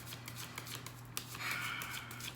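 Tarot cards are shuffled by hand in soft, quick riffling bursts and slides, close and fairly quiet, with no talking.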